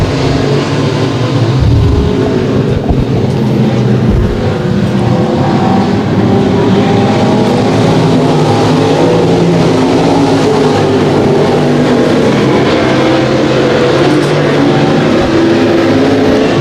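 Race cars roaring around the track at Boyd Raceway, a continuous loud engine din with cars passing and overlapping throughout.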